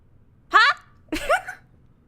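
A game character lets out two quick voiced sneezes in a space-set video game, each a short, breathy burst about half a second apart, fairly loud and close.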